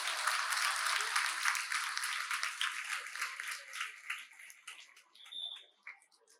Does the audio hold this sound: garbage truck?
no